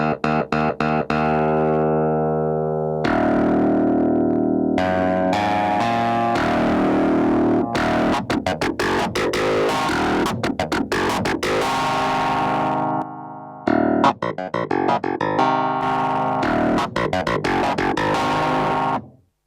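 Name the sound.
electric guitar through drive pedal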